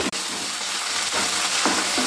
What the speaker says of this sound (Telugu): కొంచెం సేపు ఫ్రై చేసుకొని తిప్పుకోవాలి